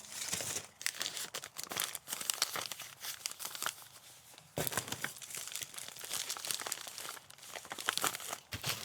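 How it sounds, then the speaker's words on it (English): Paper packing material from a shipped package crinkles and crunches continuously up close, with dense bursts of rustling and tearing-like scrunches throughout. "It's nice to reuse these paper packing material."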